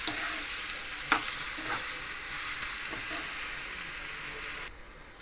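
Chopped onion sautés in hot oil with a steady bright sizzle for several seconds, broken by a few soft stirring scrapes, before the sizzle cuts off abruptly near the end.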